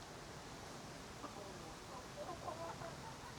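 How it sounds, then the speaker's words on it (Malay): Faint chickens cluck here and there over a soft, steady background hiss. "Wow, ayam ni banyak ni."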